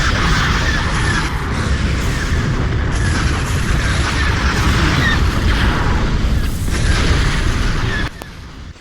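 Secondary weapons in a Star Wars space battle game pound away in a loud, unbroken stream of booms and blasts, dense and overlapping until the barrage drops off abruptly near the end.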